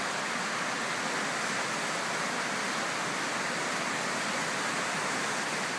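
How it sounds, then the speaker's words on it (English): The Elwha River rushes below a shallow lake bottom as a steady, dense broadband roar of flowing water, unbroken and even throughout with no voices. "Hoping we could get the sound of the river below."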